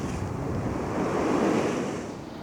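Rough, choppy sea surf crashes continuously on the Blackpool seafront on a wet, windy last day of 2023, with steady wind roar blowing across the microphone and no voices.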